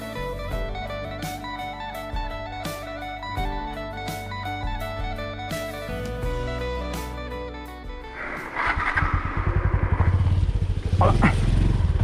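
A motorcycle engine is held on the throttle while the bike reverses down a wet, rainy-season slope at Khao Kradom, a steady humming tone giving way to a louder, rough pulsing rumble near the end.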